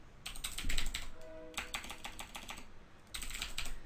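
Rapid clicking from a computer keyboard as a DOS install command is typed, close and clear in three bursts split by short pauses, with no voices.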